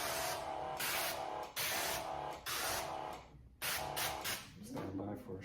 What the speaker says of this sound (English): completely spray down this back glass